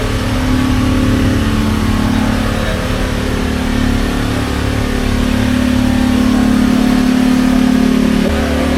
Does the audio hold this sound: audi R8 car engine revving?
yes